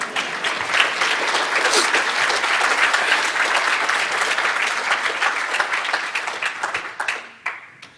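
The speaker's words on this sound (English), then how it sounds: "Let's clap" Conference audience at Shmoocon 2017 breaking into sustained applause after a working demo, dense loud clapping from a large crowd that holds steady then thins out and fades to scattered claps at the end.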